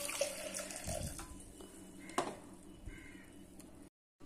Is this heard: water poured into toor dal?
yes